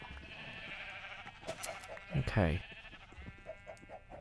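Sheep bleat in Minecraft, one drawn-out wavering bleat in the middle rising over soft background game sounds, with a brief spoken word nearby.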